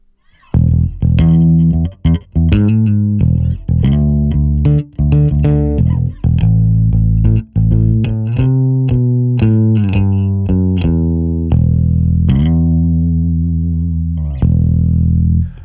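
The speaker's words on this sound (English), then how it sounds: "Now this particular Fender Jazz Bass is really cool." A 1970s Fender Jazz Bass played through effects with a distorted, chorused tone: a steady run of deep, sustained notes with short gaps between phrases, loud and close.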